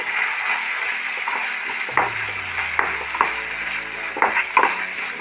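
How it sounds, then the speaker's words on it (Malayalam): Egg roast with soy sauce is stirred in a sizzling pan, the steady frying hiss broken by irregular scrapes and clinks of the spoon against the pan, close and without talking. "ഒരു 1/4 സ്പൂൺ സോയാ സോസും നന്നായി മിക്സാക്കാം."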